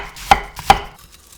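A knife cuts 200 g of cabbage into 0.7 cm strips on a board, making two sharp, close chops with a softer tap between them before the sound fades.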